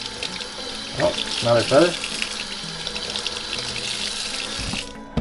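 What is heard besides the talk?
tap water rinsing plucked wild duck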